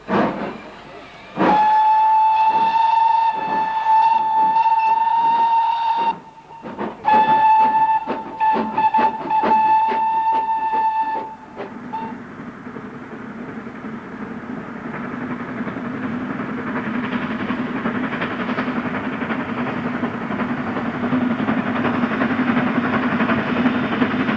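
The GWR steam locomotive Clun Castle runs from Plymouth to Bristol during GWR 150th celebrations. A steady whistle-like tone sounds twice, then gives way to a broad, building rumble of the train on the move.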